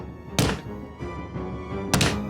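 Two heavy thuds of someone banging on a door, spaced about a second and a half apart, booming and resonant over a tense dramatic musical drone in a Hindi horror story.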